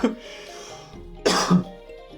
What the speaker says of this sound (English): I wanna cough too.